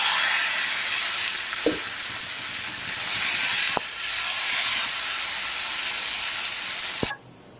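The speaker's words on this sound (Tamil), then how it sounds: "இதை எடுத்து குண்டா ஊத்தப்பம் மாதிரி ஊற்றிக்கலாம்." Dosa batter poured thickly onto a hot street-style griddle, giving a steady bright sizzle and hiss for several seconds, broken by a few sharp clicks and knocks from the pan and a final clack before it cuts off.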